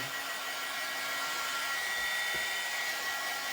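A hair dryer blows in a steady, unbroken whoosh with a faint whine, drying a painted wood surface close by.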